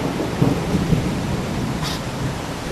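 Thunder follows a big lightning bolt during a thunderstorm, a low rumble rolling through steady rain, with a brief sharper crackle near the end.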